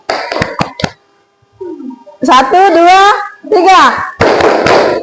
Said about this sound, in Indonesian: Ayo, tepuk semangat dulu.